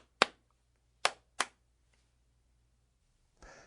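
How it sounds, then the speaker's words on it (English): A student claps their hands three times in a quiet room: one sharp clap, a pause, then two close together. A soft rustle follows at the end. "the student clapped his hands, made palm-to-palm contact between his hands, and you heard an audible noise for each clap"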